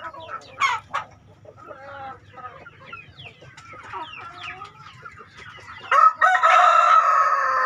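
Young chickens clucking and cheeping in a flock being released, with scattered calls building to a loud rooster crow near the end, close and clear.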